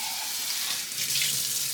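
Hot tap water runs steadily into a sink while a glass mason jar is washed with a silicone cleaner and Castile soap, a close, continuous hiss and splash with no talking.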